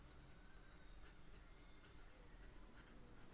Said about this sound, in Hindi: जैसे मैं यहाँ पे एक और एग्ज़ाम्पल लिखता हूँ, अली प्लेज